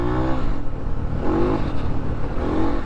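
Motorbike engine revving hard near the top of its rev range while riding through bush, a loud continuous high-pitched drone with rising and falling harmonic sweeps, close up and without talk.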